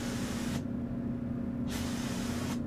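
Rust-Oleum paint sprayed from a paint spray gun onto a Ford F-150, heard as loud, steady hissing bursts that stop briefly and start again, with no talking.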